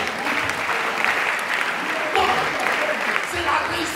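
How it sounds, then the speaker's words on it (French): A church congregation applauds loudly, with steady, continuous clapping and some raised voices mixed in throughout. "Ils sont prêts à acclamer très fort pour nous."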